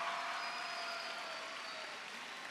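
Sustained applause from a conference audience welcoming visiting delegations from Colombia, Mexico and Germany, a steady, dense wash of clapping at moderate level with no pauses throughout.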